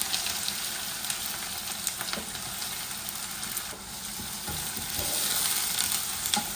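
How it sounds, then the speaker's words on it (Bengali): Onions dropped onto garlic frying in oil in a pan for a tomato khatta give off a steady, close, dense sizzle that continues without a break, with no voices. "এই দিয়ে দিচ্ছি অনিয়ন।"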